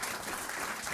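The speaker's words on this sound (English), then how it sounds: "let's give Steve a round of applause for this" A crowd at a political campaign event in Plymouth, New Hampshire applauds a speaker named Steve, a faint, even spread of clapping heard from a distance for about a second.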